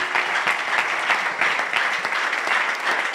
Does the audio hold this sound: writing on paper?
no